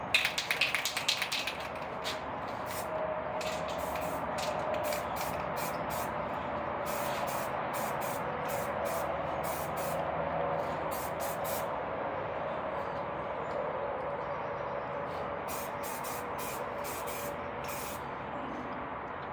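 Steady spray-gun hiss of clear coat going onto a hydro-dipped piece, continuous and close, broken by short rhythmic bursts of higher spray pulses at the start and through the middle.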